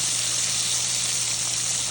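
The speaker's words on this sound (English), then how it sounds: "just listen to that sizzle." Nashville hot chicken sizzles as it fries, a steady, bright hiss of hot oil that holds constant throughout, close and without any talking.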